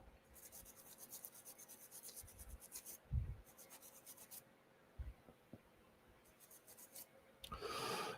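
Rust is scrubbed off a woodturning lathe chuck in short bursts of hissing, rasping strokes, separated by quiet pauses and a few soft knocks, close and fairly faint.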